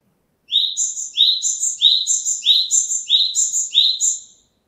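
Male Japanese tit, a sparrow-sized black-and-white bird, singing its repeated two-note phrase about seven times in steady rhythm, clear and fairly close against a quiet background.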